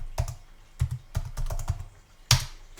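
Someone types on a computer keyboard in short irregular bursts, with several close key clacks and a firmer final strike, with no talk.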